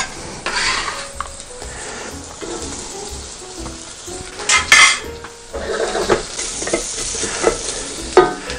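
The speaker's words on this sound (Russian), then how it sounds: "Итак, овощи нарезаны, давайте поджарим их." Chopped vegetables fry in olive oil in a heated saucepan, with steady sizzling, stirring scrapes and occasional clinks of a utensil against the pot, close and continuous throughout.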